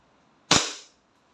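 A single sharp, loud shot from an E&C Glock 19 Gen 5 airsoft pistol fired through a chronograph, close by, with a quick crack and a short decaying tail, then quiet.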